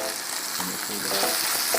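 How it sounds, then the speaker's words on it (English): Ribeye steak sizzles steadily in a hot pan, a dense, close crackling fry with no talk over it. "Double sizzle."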